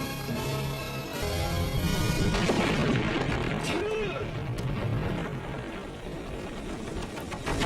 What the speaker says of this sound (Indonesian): Lalu dia menjatuhkan sebuah bom.